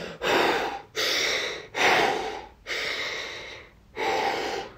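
A person takes five slow, deep breaths close to the microphone, each long airy inhale or exhale separated by brief pauses in an even rhythm.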